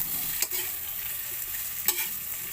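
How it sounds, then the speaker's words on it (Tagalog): Shrimp sauté and brown in a pan with a soft, even sizzle, broken by two quick scraping stirs of a utensil; no talking over it. "Browning muna natin yung hipon natin."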